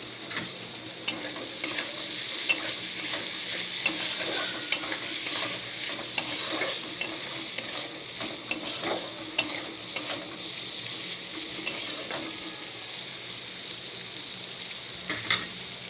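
Salted potatoes frying in a pan, with a continuous loud sizzle and repeated scraping and clattering as they are stirred throughout, close up with no talking.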